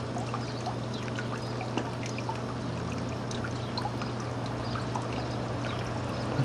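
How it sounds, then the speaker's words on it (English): Tiny pulser pump driven by a little aquarium pump, pushing water up a clear pipe: a continuous trickling, pouring flow with a low steady hum beneath, moderate in level, with no talking. "That's how high it's pumping."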